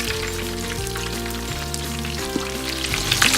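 Pieces of fish head sizzle loudly in hot oil in a continuous crackling fry, with a brief clatter and a burst of spatter near the end as the pieces are flipped.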